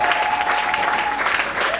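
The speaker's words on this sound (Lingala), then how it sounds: "Acclame très fort pour le Seigneur." A church congregation applauding for the Lord, dense sustained clapping from a large crowd, loud and continuous throughout.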